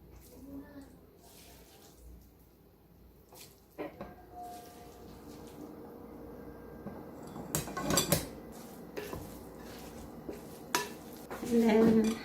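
Papaya and mango for Ilocos empanada filling are stirred together in a bowl, giving soft scraping and clinking of a utensil against the dish, with a few louder knocks near the end under intermittent talk.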